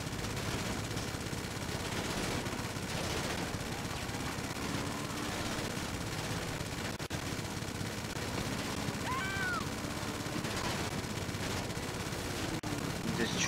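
A machine gun fires in GTA Online during a Blazer Aqua vehicle mission. Dense, continuous rapid fire runs the whole time under a busy game soundscape, with a brief voice in the mix.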